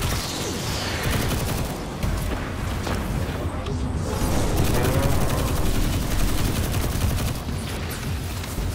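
Dense, continuous gunfire from the Destiny 2 video game, rapid bursts and booms layered into a steady loud barrage with a few brief dips, no speech over it.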